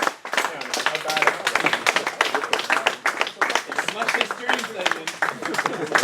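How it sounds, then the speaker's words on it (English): An audience at a tabletop wargaming league awards night claps for the third-place winner, a steady patter of hands with a speaking voice over it. "So, big round of applause."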